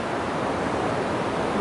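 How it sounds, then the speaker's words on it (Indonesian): Steady roar of beach waves and surf at dawn in Bali, a continuous broadband wash with no distinct breaks, fairly loud and close, with no voices. "keeksotisan nuansa pantai di pagi hari setelah subuh"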